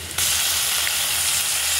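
Onion mixed with ginger, garlic and green chilli hits hot oil in a pan for an egg and potato curry, bursting into a loud, steady sizzle that fills the clip up close.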